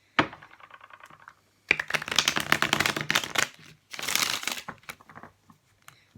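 Tarot cards shuffled close up in three rapid bursts, dry riffling and flicking with short pauses between them, the middle burst the longest and densest.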